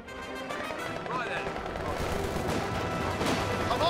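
Sustained heavy machine gun fire rattles through a Company of Heroes 2 World War II battle between Lowland infantry and Panzergrenadiers, a dense continuous clatter under a shouting voice.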